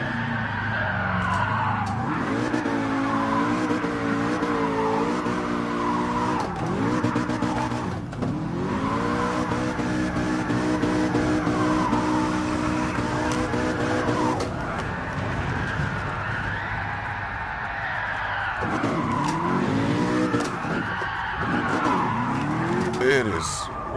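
Gran Turismo Sport car drifting, engine revving in steady rising and falling sweeps with tire squeal layered over it, continuous and loud throughout with brief dips in pitch between slides.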